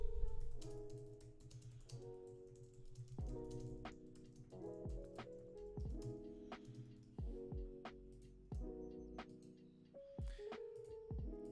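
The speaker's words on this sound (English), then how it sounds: "Let me just write this in the chat." Quick clicks of typing on a computer keyboard while a chat message is written, sounding as sharp irregular taps over steady background music, with no talking.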